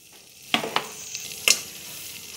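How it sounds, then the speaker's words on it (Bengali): Butter heating in a frying pan gives a soft, steady sizzle close by, broken by a few sharp clicks and taps of utensils against the pan, with no talk. "বাটারটা গলা পর্যন্ত অপেক্ষা করছি।"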